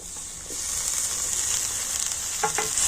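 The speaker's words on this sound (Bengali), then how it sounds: "তো টমেটো আমি একটু ভেজে নেব" Chopped tomato with onion fries in a pan, a steady loud hiss and sizzle heard close up, with a few light stirring scrapes and taps and no talking.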